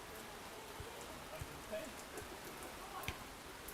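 Rain falls steadily over an outdoor beach volleyball match, a soft continuous patter with a few slightly louder drops, heard at low level without any clear talk.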